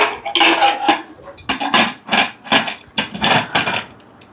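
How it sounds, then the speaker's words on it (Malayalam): A pressure cooker holding rajma and chopped onion has its lid set on and closed, producing a string of sharp metallic clanks and scrapes in uneven bursts, close and fairly loud. "ഇനി പാത്രം അടയ്ക്കുന്നു."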